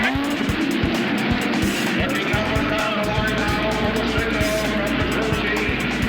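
A field of 1970s Indianapolis 500 race cars fires up together, making a dense, loud, continuous engine roar with throbbing low rumble that fills the whole stretch.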